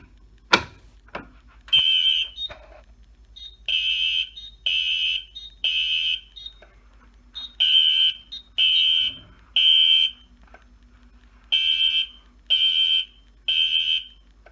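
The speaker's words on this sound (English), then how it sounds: "we're going to start with pulling the fire alarm" A pulled fire alarm sounds a loud electronic horn in regular pulsed bursts, grouped in sets of three with short gaps between them. A sharp mechanical clunk opens the clip.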